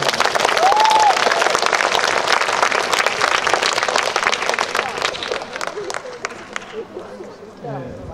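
A crowd at an outdoor unveiling ceremony for a bust of President Park Chung-hee bursts into loud, sustained applause that gradually thins out and fades over several seconds.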